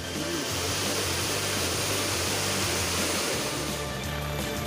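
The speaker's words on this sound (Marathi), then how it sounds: "मुसळधार पावसामुळे शेतं पाण्यानं भरून गेली" Torrential cloudburst-like downpour in Nandgaon, Nashik, flooding farm fields: a dense, unbroken roar of rain, loud and steady throughout with no pauses.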